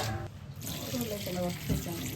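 Water is poured into a simmering meat curry during home cooking, a short splashing stream under ongoing conversation.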